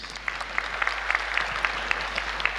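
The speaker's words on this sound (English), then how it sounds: "Let's give them a round of applause" An audience at a conference day acknowledging participating universities and colleges breaks into loud, continuous applause, with individual sharp claps standing out from the steady wash.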